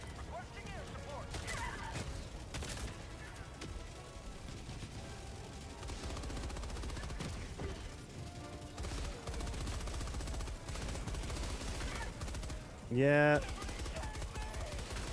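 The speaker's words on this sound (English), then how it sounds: "Machine gun is not bad." Machine gun firing in the Helldivers 2 video game, with sustained rapid bursts over a busy battle soundscape. A voice talks briefly over the shooting.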